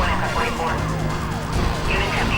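Police sirens wail in rising and falling sweeps during a highway chase in the racing game Need for Speed Most Wanted, loud and continuous over the roar of the cars, with some talk mixed in.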